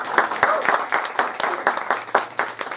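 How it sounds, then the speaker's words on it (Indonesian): An audience at a seminar on MLM and insurance bursts into brief applause: dense, overlapping claps, close and fairly loud, lasting a few seconds with a voice faintly mixed in. "tepuk tangan bagi Anda"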